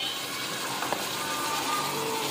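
Boneless mutton frying with ginger garlic paste for bhindi gosht, a soft, even, close sizzle with a faint clink of stirring partway through, no talk.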